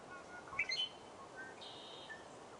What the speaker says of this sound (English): Beautiful red-winged blackbirds in the cattails.